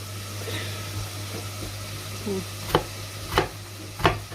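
Onion being chopped on a board for Turkish tantuni, a few sharp knife strikes landing in a slow uneven rhythm near the end, close by over a steady low hum.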